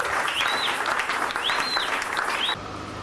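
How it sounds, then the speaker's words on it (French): A church congregation applauds loudly and steadily, a dense wash of clapping with cheering whistles rising through it, cutting off abruptly near the end. "Acclamez très fort."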